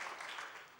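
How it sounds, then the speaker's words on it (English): A speedrun event crowd applauds at Awesome Games Done Quick 2018 during a Sonic Mania run, a short, dense patter of many hands that holds steady and then eases slightly. "Now, real quick, clap."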